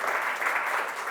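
An audience applauds for Gus Chandra at a televised talk show about Sufism, a steady, dense wash of many hands clapping at once, close and fairly loud throughout.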